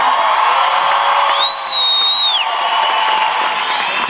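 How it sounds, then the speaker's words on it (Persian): A concert crowd at a live show in Los Angeles roars with applause, cheering and screams, and a loud, clear whistle rises and holds above the steady wall of noise. "یه دست و جیغ و سوت و هورا به افتخار خودتون بزنین"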